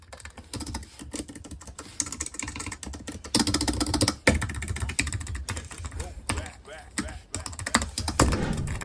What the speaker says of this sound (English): The keyboard has a low profile, which means that it's very comfortable to type on and easy on your wrist.